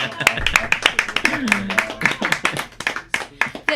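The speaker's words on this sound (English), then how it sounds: "Let's give him a round of applause." A small audience claps for Marcus, a guest auditioning to host a children's show. The applause is close and sparse, with separate hand claps in an uneven rhythm, and a voice talks over it.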